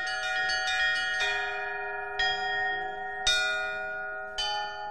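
Russian church bells played by hand in a bell tower ring out in a rhythmic pattern, with several quick strikes followed by slower, spaced peals whose tones linger and overlap.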